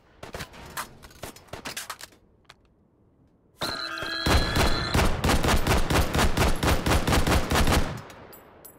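Semi-automatic gunfire in the VR game Hot Dogs, Horseshoes & Hand Grenades: a few scattered shots, a pause, then a rapid, loud string of evenly spaced reports lasting several seconds.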